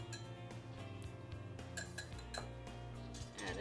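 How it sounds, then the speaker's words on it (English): An egg whisked in a bowl, rapid light clinking and scraping of a whisk against the dish at close range, a steady busy rattle with no speech. "All right, I'm gonna add 1 egg. Whisk that up a little bit."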